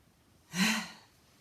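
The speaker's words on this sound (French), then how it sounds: "Grande respiration." A single deep breath during a stretching exercise class, one soft, airy exhale swelling for about half a second in quiet surroundings.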